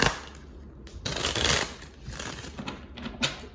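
Gypsy Oracle Sibylla card deck being shuffled by hand, a dense papery riffling and flicking that rises and falls over a few seconds, close and fairly loud with no talking.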